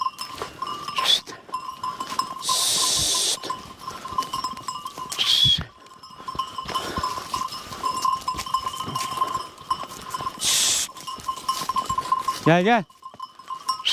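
A flock of sheep mills about in the open, with bleats rising now and then and a bell clanking steadily, while a man calls out to the animals and talks over them.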